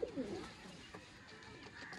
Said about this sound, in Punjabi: ਕਬੂਤਰ ਦੋਸਤੋ ਨਾਲੋਂ ਨਾਲ ਡੱਬੇ 'ਚ ਜਾ ਰਹੇ ਨੇ